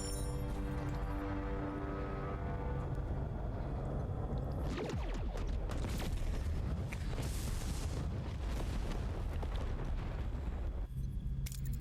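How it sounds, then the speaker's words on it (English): A tri-cobalt device explodes in the Star Trek: Voyager - Across the Unknown game: a loud, sustained rumbling blast that swells midway with crackling debris, set against steady music and fading out near the end. "That was a good explosion."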